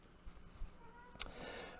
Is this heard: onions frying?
no